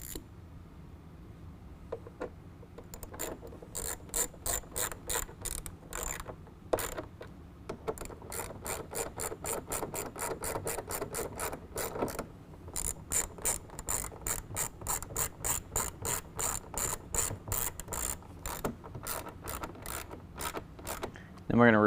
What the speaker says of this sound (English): we're going to reinsert our two 7mm bolts here and here. Then we can go ahead and tighten those down.